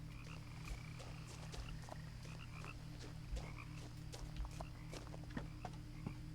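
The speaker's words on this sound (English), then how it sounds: "The frogs are croaking all over the place." Frogs croak all around in the woods of the video game What Remains of Edith Finch, a dense chorus of repeated croaks near and far over a steady low ambient hum, with no talking.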